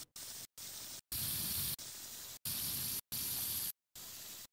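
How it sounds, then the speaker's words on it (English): Aerosol spray paint hisses onto a radiator in seven short bursts separated by brief silences, close and steady, with no talking. "spray the other side of the rad for an even coat overall"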